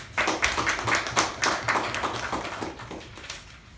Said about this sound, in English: So let us give a huge round of applause